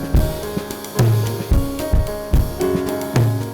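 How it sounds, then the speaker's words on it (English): Strong, punchy drums hit hard over a piano part, heavy kick and snare accents landing in a steady rhythm, loud and up front with no voices. "But then when you add in the drums, they're very strong and powerful."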